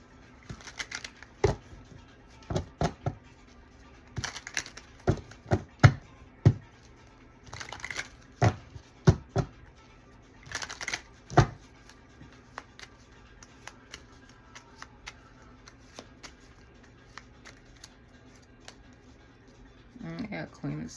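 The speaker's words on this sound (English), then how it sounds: "I want to pull one extra little card from this deck just to see what we get" Tarot cards shuffled and pulled from a deck, producing a series of sharp, close riffling snaps and slaps in irregular bursts, with quieter gaps between them and a voice talking briefly near the end.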